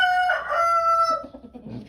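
A rooster crows once, loud and close, a long drawn-out call among Leghorn and Rhode Island Red chickens; it fades into softer clucking from the flock.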